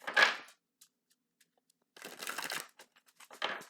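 A deck of cards is shuffled in quick, faint bursts of riffling and flicking, separated by near silence, with a light tap or two in between.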